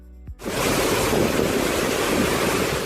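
A muddy, swollen river rushes past in a loud, continuous broadband roar that starts abruptly after a brief quiet moment and then holds steady, with no voices.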